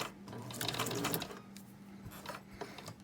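A sewing machine runs faint stitches through fabric at the first few stitches under the presser foot, quiet rapid mechanical bursts that speed up and pause.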